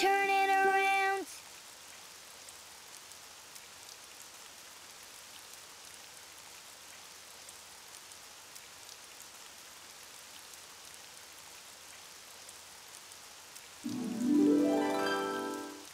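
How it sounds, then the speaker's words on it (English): Soft, steady rain hisses quietly throughout, with brief musical tones at the start and again near the end. "Oh, it's raining outside."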